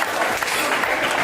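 Dense, steady audience applause at an official commissioning ceremony, a loud continuous patter of many hands with no break over its short length.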